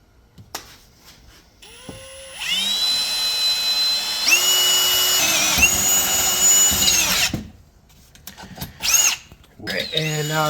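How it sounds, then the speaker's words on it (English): A power drill bores holes for the bracket mount of a power steering cooler during a G35 LS swap, with several sustained whining bursts separated by pauses, near and loud, and a voice speaking briefly between them. "Andrew is drilling holes for the bracket mount for the power steering cooler."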